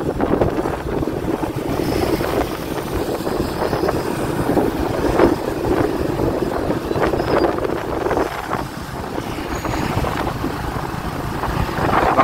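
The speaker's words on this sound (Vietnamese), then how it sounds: "Gió lớn ghê, mạnh ghê, cái bạc xe nó muốn quạt luôn á." Strong gusting wind in the rain on the Cổ Chiên bridge in Vietnam, a loud, continuous buffeting roar with rushing rumble against the microphone and no voices.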